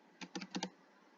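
Short burst of computer keyboard typing while entering code for a Python calculator, five quick keystrokes clustered in about half a second, close and clear against a quiet background.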